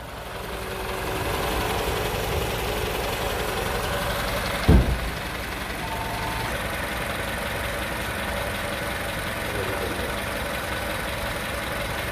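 A car engine idles steadily with a low, even rumble, interrupted briefly by a short thump midway before settling back into the same drone.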